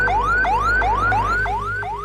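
A loud, close wailing siren repeats a rising sweep that snaps back down, about five steady cycles with no pauses, in the style of an ambulance alarm.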